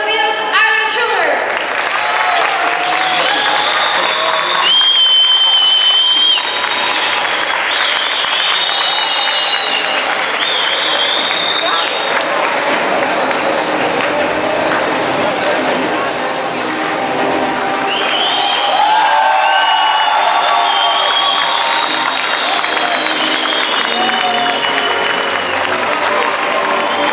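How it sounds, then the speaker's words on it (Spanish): A large audience at Xpo Comicon Guatemala 2015 gives loud, sustained applause with cheering and whoops to welcome comics historian Arlen Schumer onto the stage, the clapping staying dense and continuous throughout. "con un fuertísimo aplauso recibamos aquí en este escenario"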